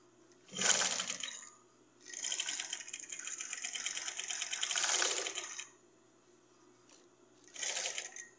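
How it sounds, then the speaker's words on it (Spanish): A sewing machine stitching a fabric 3D face mask runs in three loud bursts of fast, whirring stitches separated by short pauses, close up with no talking. "Le pasamos a la máquina, le cosemos aquí y después le cosemos esta otra parte."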